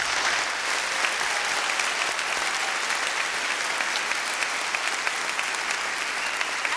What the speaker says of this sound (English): let's give them a proper round of applause